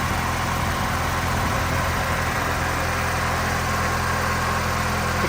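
A 1989 Toyota Celica GT-Four ST185 rally car idles with the bonnet open, giving a steady, continuous engine hum with low rumble and no revving, close by and alone for the whole stretch.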